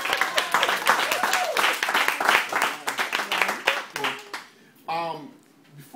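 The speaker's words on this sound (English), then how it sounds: "Let's give an applause for Mr." Applause from an audience at a Prince George's County school board event, dense broadband clapping filling most of the span with voices mixed in, then a brief lull and a spoken voice near the end.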